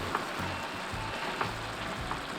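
Bracken simmering in a covered pan for a Korean holiday side dish, a soft continuous sizzle and bubbling with faint light pops, close and steady throughout.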